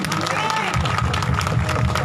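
Congregation at a Sunday prayer meeting clapping for Jesus: loud, busy applause with crowd babble and cheering voices mixed in, continuous from start to finish.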